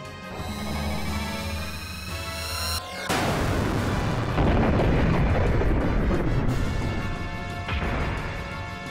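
Cannon blast in the Xenogears video game: a mechanical whirring build-up cut by a sudden heavy crash, followed by a long rumbling, crackling explosion roar with a second impact near the end, loud and without talk.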